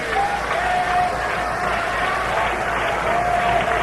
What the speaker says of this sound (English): The fans begin to clap it up